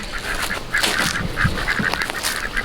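A flock of pet ducks and geese calls out in a loose run of quacks and honks, moderately close and steady with no voices over them.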